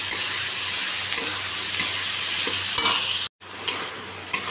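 Spices and tomato fry in a pan with turmeric and salt for a fish curry, a steady close sizzle filling the clip with light stirring clicks, a brief dropout, then the hiss resumes.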